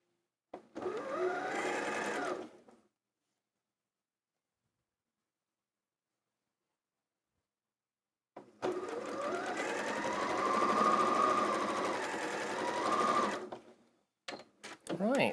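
A domestic sewing machine with a built-in thread cutter stitches quilt pieces in two steady, fairly loud runs, a short burst followed by a longer stretch after a pause, with a few brief clicks at the end.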